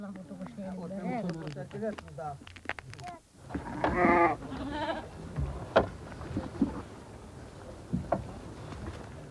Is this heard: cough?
no